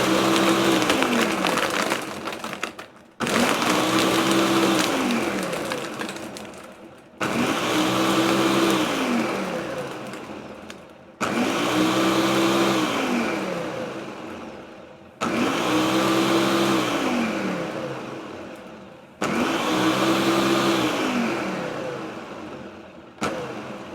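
Blender whirring through frozen salted caramel hot chocolate in six loud bursts of about four seconds, each falling in pitch as the blend thins, with short pauses between.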